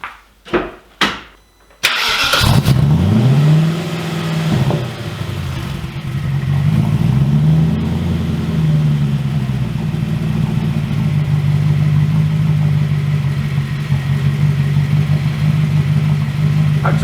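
A V8 engine swapped into a Porsche Cayman fires up after a few short clicks and runs steadily, its rumble loud and near with a couple of blips of revs before settling into an even idle.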